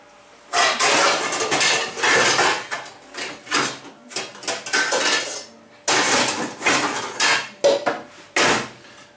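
Metal pans clatter and clank repeatedly, sharp bangs in uneven bursts with short pauses between.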